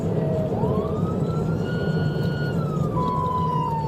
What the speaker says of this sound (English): Trooper activated his lights and sirens